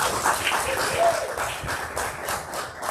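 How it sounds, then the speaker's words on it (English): Audience applause for a town mayor at a Bulloch County political event for a U.S. Senate candidate, steady clapping filling the room for three seconds with some crowd voices underneath. "give him a round of applause"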